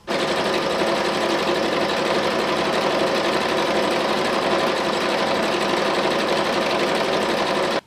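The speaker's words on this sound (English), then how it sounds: "We can then change our machine to a zigzag stitch and we can stitch on the outer edge of that running stitch just to really reinforce it." A sewing machine runs steadily at full speed, sewing a zigzag stitch along the outer edge of a running-stitch seam on a fabric cushion cover, loud and close, one continuous buzzing drone with no talk.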